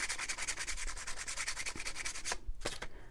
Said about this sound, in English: So I'm going to go ahead and sand the yellow one. And I'm just rubbing over the top of the entire piece.